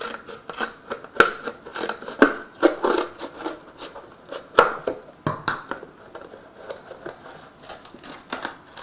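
Scissors snip apart a paper cylinder model in a series of short, crisp, close-up cuts with irregular pauses and some light paper rustling between them.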